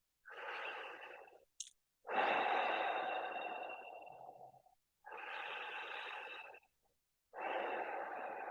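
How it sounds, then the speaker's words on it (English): Slow, deep breaths in and out through the mouth during a morning meditation. Four long, soft, airy breaths are heard close up with clear pauses between them in an otherwise quiet room. "nice deep inhales and exhales through the mouth"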